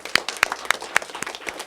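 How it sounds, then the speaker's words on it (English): Scattered, sparse claps ring out at a press conference, a handful of distinct sharp hand claps spaced irregularly and fairly close, rather than a full sustained ovation. "let's give our champions a big round of applause for all the work that they do"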